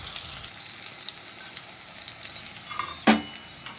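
Gram flour patties (chana tikadi) frying in oil in a pan, a steady close sizzle and crackle with a brief louder clatter near the end.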